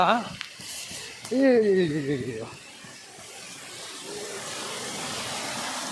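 Near a Kerala Vishnu temple, a person speaks briefly, then a steady soft hiss of rainfall takes over, rising slightly and continuing evenly to the end.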